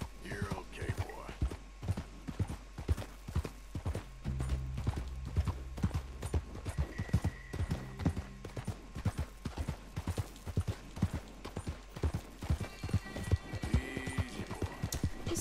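Horse hooves clip-clop steadily in Red Dead Redemption 2, a rapid rhythmic trot sounding close and clear through the whole stretch, with faint game ambience and a short whinny-like tone underneath.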